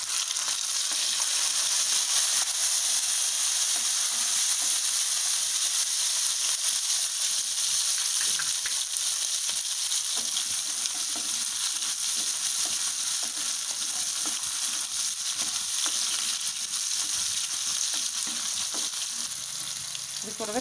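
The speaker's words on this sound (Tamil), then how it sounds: "பூண்டு பாதி அளவுக்கு வதங்கட்டும், அதுக்கப்புறம் நம்ம வெங்காயம் சேர்த்துக்கலாம்" Garlic and onions sauté in a pan for a Coimbatore-style fish curry, giving a steady, dense sizzle and crackle that carries evenly throughout with no talking.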